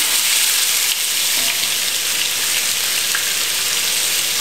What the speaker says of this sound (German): Und jetzt seht ihr, dass unser Öl richtig heiß ist. Und jetzt geben wir unsere Innereien mit dazu.